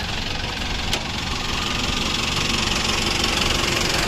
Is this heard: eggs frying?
no